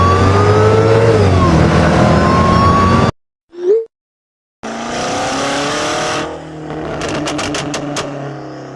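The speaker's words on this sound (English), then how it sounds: "That's what creates that rising mechanical whine you hear during acceleration" Supercharged large V8 car accelerating hard: a rising mechanical supercharger whine over a deep exhaust roar, cut by a brief gap and a short chirp, then another loud run ending in rapid crackling pops.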